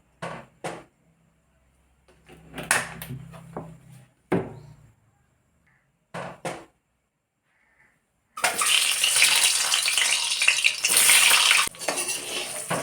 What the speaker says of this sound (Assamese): কণী ভাজিম।